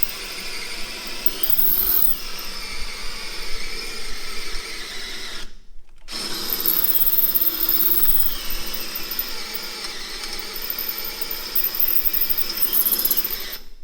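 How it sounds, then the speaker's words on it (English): A power drill grinds steadily through metal with a gritty, ratcheting whir while installing a BDS coil-over and radius arm lift, pausing once briefly before resuming, loud and close without speech. "I'm just drilling through the first piece of metal."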